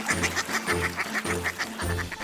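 Ducks quacking repeatedly in quick bursts over a steady low background hum, loud and close, with several overlapping calls.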